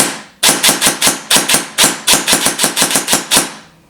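A rapid string of sharp, snappy clicks fires in quick succession, about twenty in a few seconds, loud and close, then stops.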